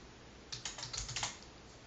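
Quick, close bursts of computer keyboard typing as code is entered, a brief flurry of clicking keys that stops after about a second.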